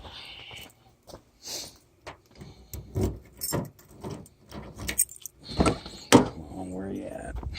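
A set of keys jangles in short metallic rattles near a car, with intermittent handling noises and bursts of speech.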